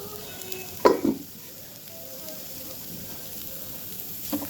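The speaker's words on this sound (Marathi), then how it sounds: "आता हे जे कारले आहेत आपण ह्यामध्ये टाकून देऊया." Bitter gourd (karela) pieces drop into a hot pan with cooked tomato, setting off a brief loud sizzle and stir that settles into a steady low frying hiss, with a small clatter near the end.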